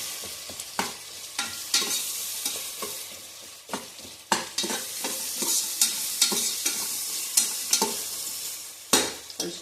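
Sliced onion and long green chillies frying in a pan sizzle steadily, punctuated by repeated sharp scrapes and clacks of a spatula stirring, close and loud with no voices.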